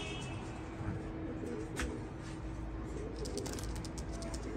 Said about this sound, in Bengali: অনেক চটপটে কবুতর